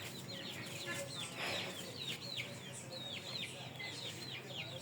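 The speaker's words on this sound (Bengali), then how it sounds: "এদিকে দেখেন মুরগিগুলো এই যে থাকে" Chickens in a rural yard cluck and chirp steadily throughout, a busy mix of short calls at moderate distance with no talking.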